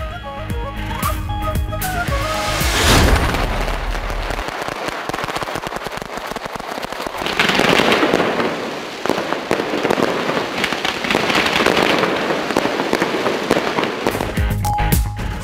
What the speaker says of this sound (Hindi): आतिशबाजी का शानदार मुजाहिरा, देखने वालों पर सहर तारी कर दिया